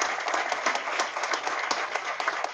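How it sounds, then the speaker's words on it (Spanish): An audience claps at the inauguration of a vocational school in La Caleta, Boca Chica, with crisp individual claps in a moderately loud, steady burst and no voices over it. "Un fuerte aplauso"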